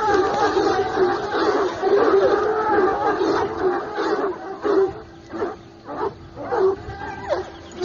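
Saint Hubert hounds give voice in a close, loud chorus of baying and yelping, the calls overlapping steadily and then breaking into separate bursts toward the end.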